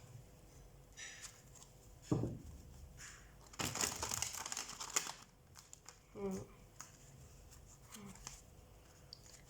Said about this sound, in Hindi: मैं कार्ड शफल कर लेती हूँ